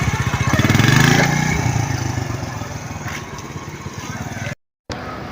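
Motorcycle engine revving steadily as the bike eases off with the clutch slowly released during a women's riding lesson, a loud rumbling drone that swells early then settles, with a brief cut near the end.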